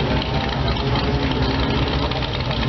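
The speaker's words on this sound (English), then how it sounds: "that motor's got a nice lump to it" A 1932 hot rod's engine idles with a lumpy, loping beat, a dense low rumble that runs steadily throughout at a car cruise, close and loud.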